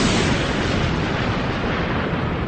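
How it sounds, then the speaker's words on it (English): A sustained, roaring rumble of dense broadband noise from a volcanic explosion, loud and unbroken for a couple of seconds before cutting off abruptly. "Or a volcanic explosion."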